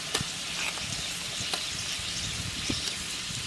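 Beef fries in hot oil with ginger garlic paste, a faint steady sizzle broken by small pops and crackles, no talk.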